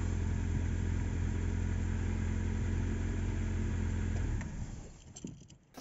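A car engine idles with a steady, loud rumble and then quietens toward the end, with faint clicks. The battery is fitted with a remote relay that switches the ground connection on and off.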